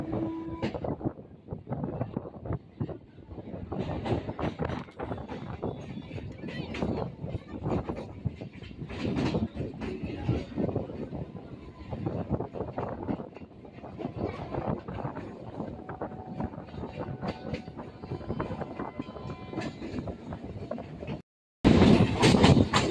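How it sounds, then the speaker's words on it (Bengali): A Kolkata local train pulls out of Patipukur station on the Dum Dum to Ballygunge line, heard from on board as a steady loud rumble with rattling carriages and wind, ending in a brief cut and a louder burst. "আমাদের ট্রেন এখন পাতিপুকুর স্টেশন ছেড়ে বেরিয়ে যাচ্ছে।"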